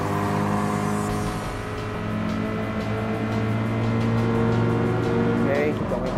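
A Toyota 86 GT racing game car drones with a steady engine tone that shifts slightly in pitch as it drives, heard under continuous talking.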